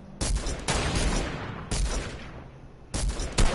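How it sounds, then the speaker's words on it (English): Gunfire from a shooter video game comes in three loud, close bursts of rapid shots separated by brief lulls, with no voices over it. "Don't shoot anymore, don't waste that many bullets."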